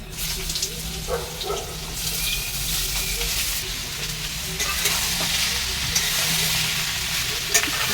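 Pumpkin pieces fry in hot oil with steady loud sizzling while a utensil stirs and scrapes through them, the crackle swelling now and then; a faint running-water sound lies underneath.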